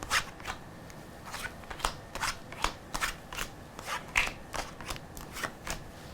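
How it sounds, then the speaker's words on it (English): Tarot cards are handled and laid down one after another, producing a close series of crisp slaps and flicks in an irregular rhythm with no talking. "So let's lay down the cards."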